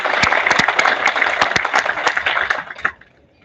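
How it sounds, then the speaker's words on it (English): An audience at a welcome ceremony for a new MBA batch breaks into loud, dense applause with sharp individual claps, sustained for a few seconds before quickly dying away. "Let's have a huge round of applause for our new batch."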